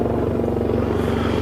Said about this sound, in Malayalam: എയർഫോഴ്സിൻ്റെ പ്രത്യേക ഹെലികോപ്റ്ററാണ് ഇപ്പോൾ വന്നുകൊണ്ടിരിക്കുന്നത്.